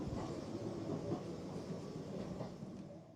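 Rhythmic clickety-clack of train wheels on rails, a steady rumbling recreated as a sound effect in the Victory Train museum's carriage exhibit, continuous and moderately loud with a soft hiss and no voices.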